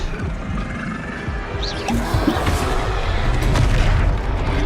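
Spell blasts from the Confringo fire spell during a Hogwarts Legacy boss battle, heavy booming impacts layered over dense game noise and music, loud and continuous with rumbling low end throughout.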